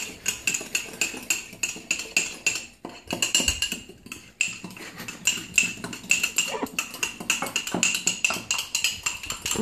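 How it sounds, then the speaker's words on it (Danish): A spoon stirs a mixture in a bowl with quick, rhythmic clinks and scrapes against the sides, close and loud, pausing briefly before carrying on. "Så rører man lidt."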